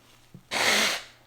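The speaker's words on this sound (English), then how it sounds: "Let me sneeze" A single loud human sneeze bursts out sharply and fades within half a second, with a brief catch of breath just before it and no talk around it.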